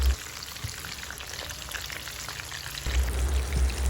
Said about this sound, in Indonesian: Ini kita gorengnya jangan menggunakan api besar ya Bun, cukup api sedang